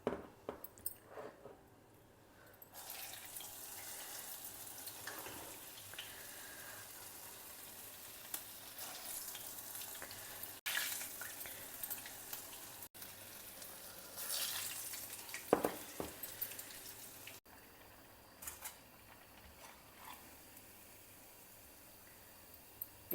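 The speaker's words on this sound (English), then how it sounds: "Likewise, fry our remaining vadais also." Vadais sizzling and frying in hot oil for a Tamil New Year festival lunch, a steady close crackle with occasional bubbling swells and faint stirring, no voices.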